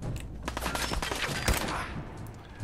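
Gunfire in the video game Fallout 4 comes as a rapid burst of shots building to one heavy blast, then fading into quieter, scattered noise.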